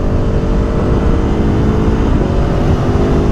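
A BMW M1000 R or Aprilia Tuono V4 Factory motorcycle engine runs at a steady high rev, a loud, close, continuous droning roar with a dense buzzy tone and no speech.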